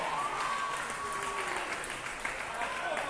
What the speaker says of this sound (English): Leeds fans applauding her effort